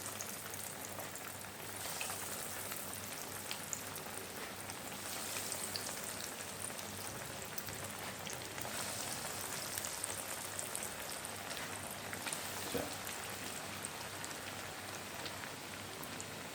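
Chicken Maggi noodle cutlets fry in hot oil with a steady, even crackling sizzle, soft and continuous with no voices.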